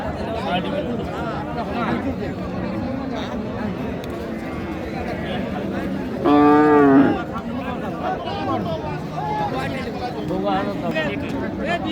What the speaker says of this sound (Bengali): এই যে ষাঁড় বাচ্চার কালেকশন